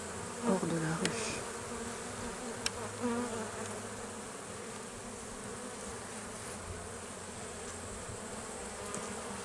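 Honey bees buzz steadily around an open hive during a full beehive inspection, a dense close drone with a few louder passes and light handling sounds.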